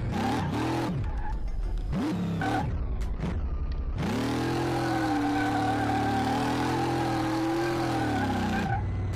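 An 800 hp supercharged drag car engine found in a barn revs in sharp bursts, then settles into a loud, steady, rumbling run with a high supercharger whine, close to the microphone with no talking.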